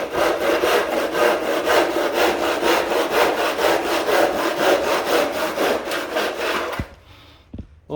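Hand saw cutting a cove cornice miter in a mitre box, a fast steady series of rasping back-and-forth strokes, loud and close, then stopping with a couple of light knocks at the end.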